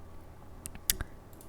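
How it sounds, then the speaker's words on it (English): A few crisp, faint clicks of a computer mouse and keyboard while editing in Photoshop, three quick taps spaced out over an otherwise quiet desk. "Now you just click anywhere and you start typing random stuff."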